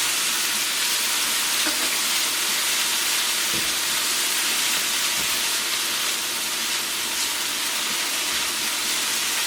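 Minced garlic and onions sautéing in a pan for a chickpea coconut curry, giving a continuous, even sizzling hiss at close range with no voices.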